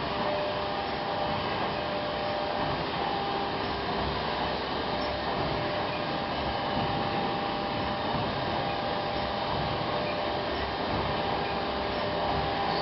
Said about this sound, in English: Here's the 2002 model ST100 set up and running.